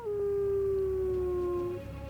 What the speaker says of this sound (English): But howling announces her presence, which is a mistake.